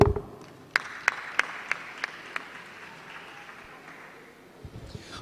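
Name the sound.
audience applause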